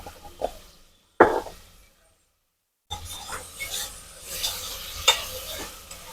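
Onions with salt frying in a pan, heard as short bursts of scraping and stirring with a soft sizzle, broken by a near-silent gap before the stirring and crackle resume more steadily.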